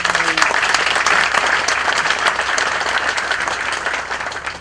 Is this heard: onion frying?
no